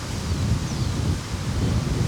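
Wind gusting during a Maui to Molokai ocean crossing, a steady low rumble buffeting the microphone for the whole moment, with no one speaking.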